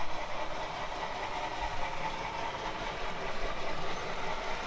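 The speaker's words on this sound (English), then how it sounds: "now the locomotives come with sound built right in them" A model diesel locomotive with built-in sound gives off a steady, droning engine rumble like an idling train, moderately quiet and continuous with no speech over it.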